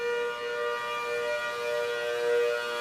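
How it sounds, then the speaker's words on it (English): Civil defense sirens of different models wail together in a steady, loud, sustained tone, their pitch shifting slightly as the rotating horns sweep around. "you're getting like a couple sirens that are rotating around, little Doppler effect action, creating different pitches and noises"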